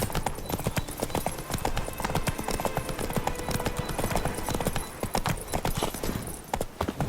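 Horse hooves clip-clopping at a trot in The Witcher 3: Blood and Wine, a dense, steady run of sharp hoofbeats with rattling tack, loud and close throughout with no voices.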